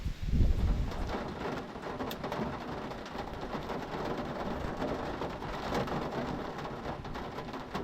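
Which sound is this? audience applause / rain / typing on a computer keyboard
rain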